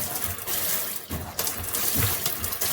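Water pours steadily from a gotonovo rainfall shower head just after it is switched on, a dense hiss of spray that wavers slightly in strength, with no talk over it.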